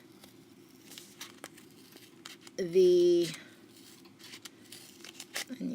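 A short, harsh crunching snip of dull scissors cutting through a flattened paper cup, loud and close, with a brief voice just before it.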